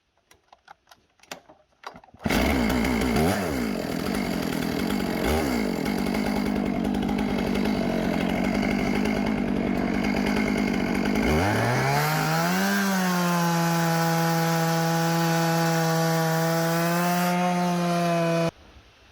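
A chainsaw mill rips lengthwise through a cedar log, roaring loud and close for about sixteen seconds before the engine rises into a high, steady revving whine and then cuts off.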